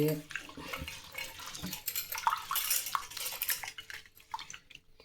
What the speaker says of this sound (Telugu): పెసరపప్పు వేపుకుని చక్కగా కడిగేసి